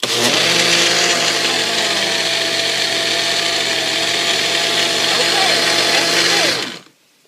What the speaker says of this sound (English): Do you need to blend it up a little bit more?